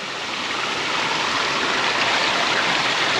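Spring water from a mountain spring in Spili, Crete runs steadily and close by, a continuous bright rushing splash that fills the whole stretch with no voices.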